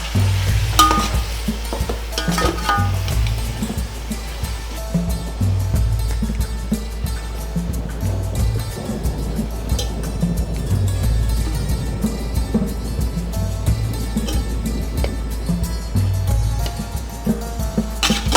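Chicken pieces fry in masala for Arabian chicken kabsa, making a loud, continuous close sizzle broken by scraping stirring strokes against the pan.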